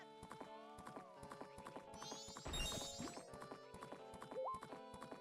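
Epona's hooves clip-clop in a steady rapid rhythm in the video game The Legend of Zelda: Majora's Mask, quiet under layered chiming game music, with a brief crash-like burst partway through.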